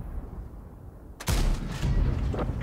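A tank cannon fires once in World of Tanks, a sudden loud boom that breaks a quiet rumble and rolls on into a sustained roar of gunfire-like noise.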